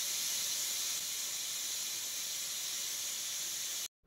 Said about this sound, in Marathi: कुकरची एक शिट्टी झालेली आहे.